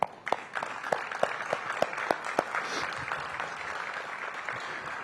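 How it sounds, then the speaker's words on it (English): Applause at a ribbon-cutting for an affordable housing building in Southwest Washington, opening with a few sharp, distinct claps that quickly merge into a moderate, sustained patter from a modest crowd. "And to me, that deserves an applause."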